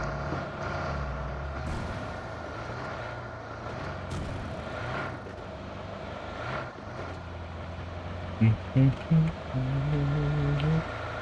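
Vehicle engine in PUBG Mobile on the Vikendi map hums and rumbles steadily at moderate level, with players chatting over it and a few louder honks or bumps near the end.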